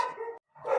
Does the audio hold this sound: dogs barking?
yes